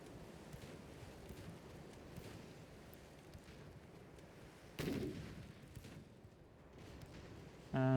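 Naval gunfire rumbles in the warship game Ultimate Admiral: Dreadnoughts as muffled, distant booms over a bed of wind and sea noise, with one heavier shot midway and another at the very end.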